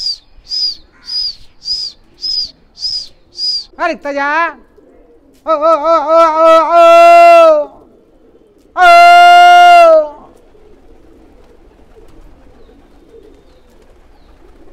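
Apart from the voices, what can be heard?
fighter pigeons cooing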